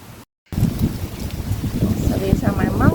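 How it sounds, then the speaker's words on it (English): Blustery wind rushes steadily across the microphone in a Jamaican garden, a broad low roar with rumbling gusts that build toward the end. "Oh, it's getting a little windy."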